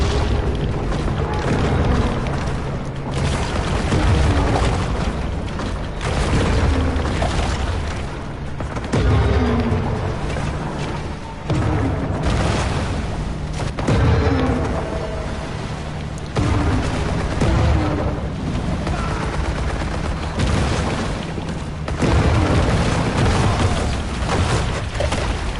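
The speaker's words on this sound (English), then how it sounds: "Drop one of those flipping bombs." Continuous heavy booming and blasts from bomb explosions in the video game Maneater, dense rolling detonations layered over one another with barely a pause, loud and close.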